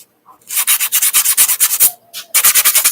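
Rapid back-and-forth rasping of a sanding block rubbing a wooden cheese board, loud and close, in quick rhythmic strokes with a brief pause midway.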